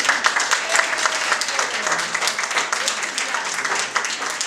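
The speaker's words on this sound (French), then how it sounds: "Donc un tonnerre d'applaudissements s'il vous plaît." A crowd at a Miss Belle Kabylie 2017 pageant breaks into sustained applause, dense overlapping clapping holding steady throughout with a few cheers mixed in.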